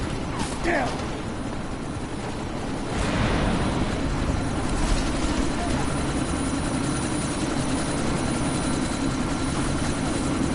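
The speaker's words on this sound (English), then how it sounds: "you need to disable that chopper" Helicopter in Deus Ex: Mankind Divided, hovering during a sandstorm, producing a continuous heavy rotor and engine roar that swells slightly after a few seconds and stays loud and steady.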